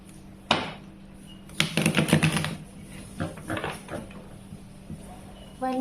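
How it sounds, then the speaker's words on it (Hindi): A deck of tarot cards is shuffled by hand at close range, giving quiet, irregular bursts of riffling and slapping with short pauses between them. "अगर आपको कार्ड शफलिंग नहीं पसंद है तो डेफिनेटली आप वीडियो को स्किप कर सकते हैं"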